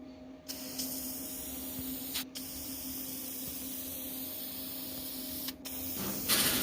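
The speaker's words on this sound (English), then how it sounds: "So it was fun just even getting the spray paint and spraying the little cart." A spray can hisses in a long, steady stream while spray painting a kid's go-kart outdoors in snow, broken by a few brief stops before the spraying resumes.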